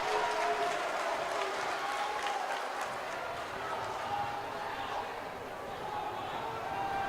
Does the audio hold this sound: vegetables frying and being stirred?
no